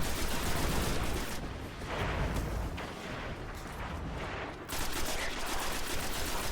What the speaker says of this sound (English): So there was the main blaster cannon, which I didn't avoid quick enough, so now I'm down.